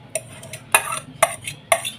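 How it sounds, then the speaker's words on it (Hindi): Metal spoon scraping and knocking around a cooking pot used for raita in a kitchen, with several sharp clinks and scrapes in an irregular rhythm, close and clear with no talk. "बर्तन को अच्छे से साफ़ कर लेंगे हम।"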